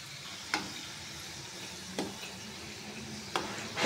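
Kapni snacks deep frying in hot oil, a steady soft sizzle with a few sharp clicks or stirring taps spaced apart, close and moderately quiet.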